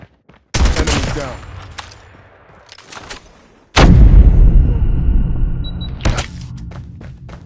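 A frag grenade detonates in a competitive shooter game with a booming, rumbling blast and a long decaying roar. It follows an earlier loud burst and fades out amid scattered clicks and game sounds.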